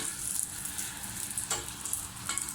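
Golgappa puris fry in hot oil while a spoon gently presses them to puff, giving a steady close sizzle with a few light clinks and splashes.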